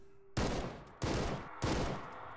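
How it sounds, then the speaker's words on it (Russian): Gunfire in S.T.A.L.K.E.R.: Anomaly, three loud separate shots or short bursts about half a second apart, each with a decaying tail, and no talk. "Он в меня стреляет сейчас."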